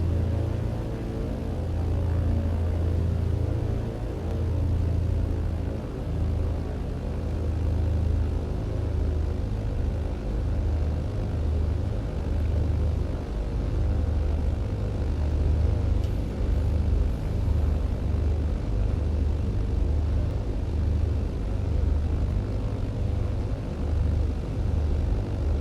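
Britten Norman Islander engines throttling up in Microsoft Flight Simulator, a steady loud low propeller drone and rumble that holds constant the whole time with no voices.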